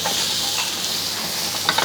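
Chopped chayote hits hot oil with frying mustard seeds, cumin and asafoetida, giving a loud steady sizzle with a few stirring scrapes near the end.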